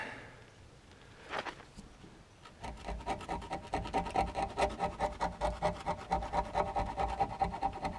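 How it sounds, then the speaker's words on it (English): Bubbled rust is scraped off metal in a steady, rapid rasping rhythm of repeated strokes, close and fairly loud, after a brief scrape and a short pause. "So I'm going to scrape this off"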